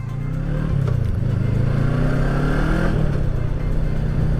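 The engine of a Voge 500 R motorcycle drones steadily and loudly while riding, with a slight dip in pitch and then a smooth rise as it pulls on.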